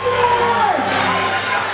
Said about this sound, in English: Listen to the anticipation rising in this crowd.